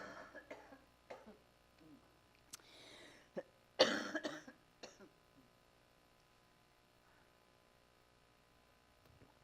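A lecturer coughing several times in a quiet room, short sharp bursts clustered with one harsher fit, fairly faint and separated by silence.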